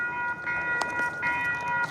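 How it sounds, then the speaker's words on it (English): A train passes close by in New England, giving a steady rumble with tonal horn-like hums and brief clanks. The sound swells and fades over two seconds, and there is no talk. "Or they just, oh, here comes the train, guys."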